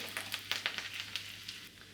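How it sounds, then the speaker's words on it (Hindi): Quiet, close sizzling of garlic, mustard seeds and cumin in oil on a low flame, with soft crackles and pops scattered irregularly over a low steady hum. "इसको मैं लो फ्लेम पर अच्छा गोल्डन ब्राउन होने दूंगी। तब तक उसी के साथ हमारी राई और ज़ीरा भी क्रैकल हो जाएगा।"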